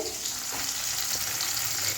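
Chicken and onions sizzle steadily in hot oil while being fried for biryani, a constant close crackling hiss with faint stirring.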